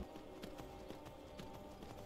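Horse hooves gallop in Skyrim, a steady rapid clip-clop rhythm of repeated thuds at moderate distance, fairly quiet over a constant background hum.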